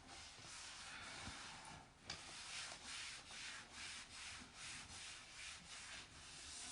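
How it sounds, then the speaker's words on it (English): A board eraser rubbing paint off a wooden board, making steady close scrubbing strokes in a repeated back-and-forth rhythm with no talk. "the board eraser will just lift all that right up"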